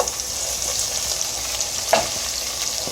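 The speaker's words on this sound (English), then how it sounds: "Do want to kind of give it a good little stir." Onions fry in a pan for a chickpea stew, a steady close sizzle with a few scraping stirs breaking through.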